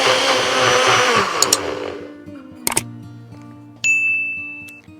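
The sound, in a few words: mixer grinder blending rose syrup lassi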